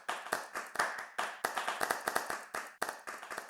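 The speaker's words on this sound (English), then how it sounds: "If we could give all of the speakers and panelists a round of applause" A few people clap in a sparse, uneven patter, individual claps distinct and quiet rather than a full applause.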